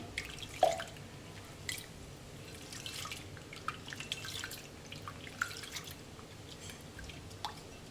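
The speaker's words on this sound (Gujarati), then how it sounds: "ચોખ્ખું પાણી ના થાય ત્યાં સુધી આપણે ધોઈ લેવાની" Water sloshes and drips as lentils are rinsed by hand in a bowl, with soft splashes and trickles, close and fairly quiet.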